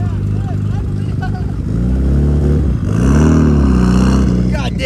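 A loud car passing through a car meet revs hard, its engine note rising and falling in strong sweeps as it drives by close, with voices of people nearby underneath.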